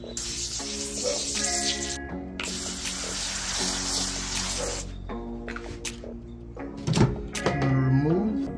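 Short hissing sprays of beef stock from a spritz bottle land on butcher paper around a smoked chuck roast, two long bursts followed by softer handling and clatter, with a musical tune underneath.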